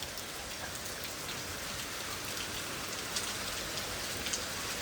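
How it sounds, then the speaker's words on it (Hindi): Heavy rain pours down steadily, a dense even hiss with scattered sharper drop impacts, nobody speaking. "अब कितनी तेज़ बारिश हो रही है, आप देख सकते हो।"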